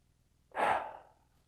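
A single gentle breath during a pelvic tilt exercise, one soft airy inhale that swells and fades over about half a second, close and quiet, with no talking.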